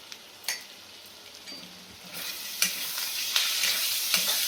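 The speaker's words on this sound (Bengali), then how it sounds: "মশলাটাকে ভালো করে কষে নিই।" Spice masala, with chilli powder and salt, stirred and fried in a pan for a chicken kasha dish, heard as a steady close sizzle with a few sharp scrapes and taps of the spoon, no talking.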